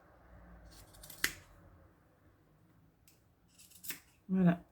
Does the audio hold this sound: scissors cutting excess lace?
yes